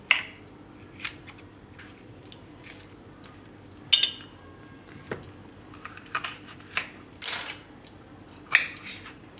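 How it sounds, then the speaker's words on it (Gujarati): A knife cuts capsicum on a board in a home kitchen, giving a handful of sharp, irregular taps and crunches spaced out over several seconds and heard up close. "હવે આ કેપ્સિકમ, તો એને આપણે સુધારી લેવું."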